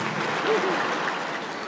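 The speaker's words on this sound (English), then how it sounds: "Thank you for applauding my evil plot." A comedy show audience applauds in a steady, dense burst of clapping, with a faint voice briefly audible underneath.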